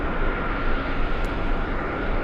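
Delta airliner arriving at JFK from Naples, a continuous, moderately loud jet engine rush with a steady hum and no voices.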